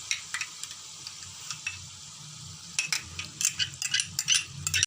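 Garlic-ginger paste sizzles softly in a pan while a utensil scrapes and clinks against the metal in quick, irregular bursts, stirring it in.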